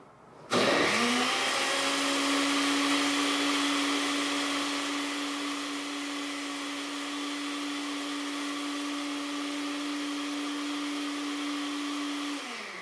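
A blender blending a plantain shake runs steadily for the whole stretch, a loud whirring motor with a constant high whine, easing slightly in pitch midway, with no one speaking.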